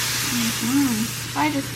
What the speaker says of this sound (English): So browning the meat.